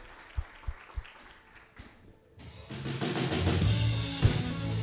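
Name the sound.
congregation applauding in church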